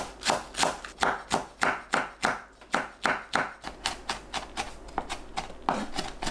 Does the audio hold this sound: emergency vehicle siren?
no